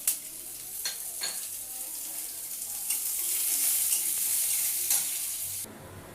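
Chopped washed vegetables go into hot oil already holding dried red chilli, bay leaf, whole cumin and whole garam masala, for a Bengali daliya khichdi. A steady loud sizzle follows, with stirring and a few clinks, no talking.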